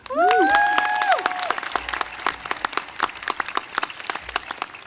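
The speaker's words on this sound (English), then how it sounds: "give the class of 2022 another round of applause" Crowd applause at a high school graduation ceremony for the class of 2022, opening with a short sliding tone, then steady clapping from many hands with scattered louder claps standing out.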